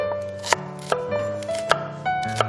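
A knife chops onion on a cutting board while jajangmyeon is being made, a handful of crisp, evenly spaced chops landing over soft, sustained background tones.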